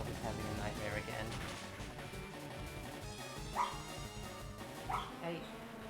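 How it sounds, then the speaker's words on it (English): A dog whimpers and yips in its sleep during a nightmare in Pokémon LeafGreen, a few short whines poking out over game music and a person talking. "Oh, the dog is having a nightmare again."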